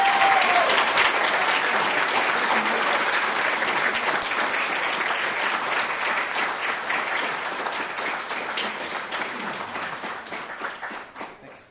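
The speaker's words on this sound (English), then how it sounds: "let's just clap for everybody." An audience at a disability awareness award ceremony applauds in sustained, dense clapping that stays strong and fades slightly toward the end.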